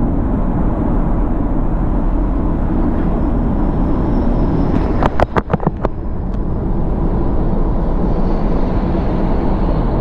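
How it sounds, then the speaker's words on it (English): A 2019 Audi Q2 engine at full throttle, a steady loud drone with road and wind noise inside the cabin and a brief burst of clicks partway through. "Okay, this is me full throttling."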